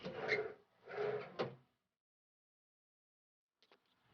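Drawers in a cruise ship grand suite slide open and shut, two soft sliding strokes followed by a sharp knock, then brief faint clicks after a pause.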